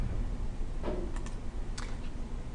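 Typing on a computer keyboard, a few scattered keystroke clicks over a steady background hum, close and fairly soft, with no talking.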